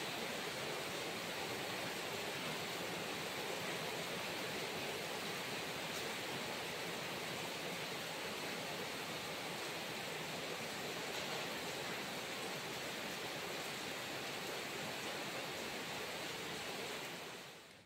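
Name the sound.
heavy rain pouring outside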